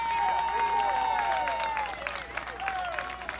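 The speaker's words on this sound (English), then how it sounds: "will join me in a great round of applause for the champions from the state of North Carolina" A crowd applauding at a youth baseball championship awards ceremony, sustained clapping that starts loud and gradually thins while a voice speaks over it through a public-address system.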